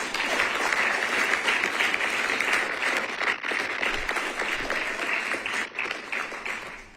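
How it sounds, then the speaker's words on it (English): An audience at a transit authority board meeting applauds graduates, a sustained crowd of clapping hands, loud and full for several seconds before gradually thinning toward the end. "just give them a round of applause for their hard work, dedication, and accomplishments"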